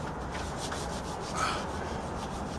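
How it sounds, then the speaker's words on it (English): Continuous rubbing of sandpaper over dried joint compound on a drywall patch, steady and close, with a faintly louder stroke midway and no talk. "this part needs a little sanding"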